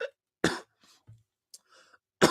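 A person coughs and clears their throat after a hit from a weed vape pen, several short, close bursts separated by quiet gaps.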